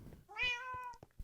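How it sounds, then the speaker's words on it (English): A nearby cat gives one drawn-out, rising and falling meow, alone and clear, with faint clicking and small household sounds around it. "Stop meowing at me."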